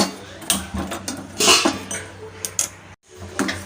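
A spoon stirs jaggery and water in a metal pot, giving a series of close clinks and scrapes against the sides in an irregular rhythm, with a brief pause near the end.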